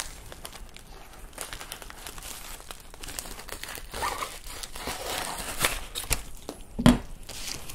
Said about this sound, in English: So let's open up the package and I'll show you the scales that I got.